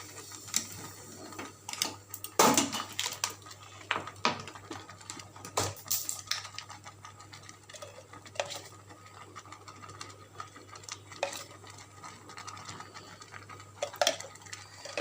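Sweet pumpkin halwa is stirred with ghee in a pan, giving irregular light scrapes and metallic taps over a steady low hum.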